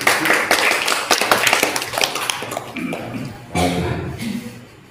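An audience at an Indonesian community gathering claps for the neighborhood head (Pak RW), brisk scattered hand claps fading after a few seconds, followed by a voice speaking.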